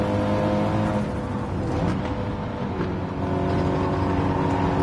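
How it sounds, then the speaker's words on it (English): Audi TT Cup Gr4 race car lifting off and coasting before a corner at Lago Maggiore in Gran Turismo 7; a continuous loud engine and road drone with steady harmonic whine, no voices. "Let the car coast before the corner, before start braking to save a little bit of fuel."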